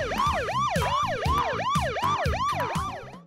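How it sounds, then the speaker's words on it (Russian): An emergency vehicle siren wails in a fast, repeating up-and-down pattern, clear and fairly close, sounding alone without any voices over it. "Это сирена!"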